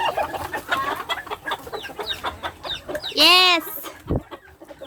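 Bantam chickens cluck in a backyard coop, a burst of loud, close squawking calls rising above steady clucking, with a person talking nearby.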